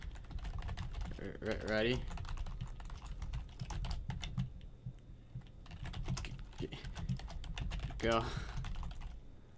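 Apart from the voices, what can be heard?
typing on a computer keyboard during a Roblox match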